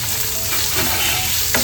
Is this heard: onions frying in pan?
yes